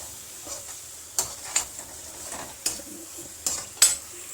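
Spices frying in hot oil in a pan at home, a soft steady sizzle broken by several sharp metallic clinks and scrapes of a stirring spoon against the pan, close and alone with no talk.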